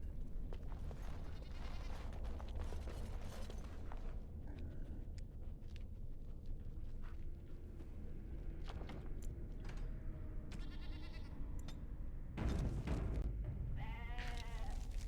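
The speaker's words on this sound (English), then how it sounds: "I wish I could let these goats out" Goats in a fantasy role-playing game bleat repeatedly over a steady low ambient hum, with several distinct calls spread out, one louder cluster near the end, and faint creaking sounds in between.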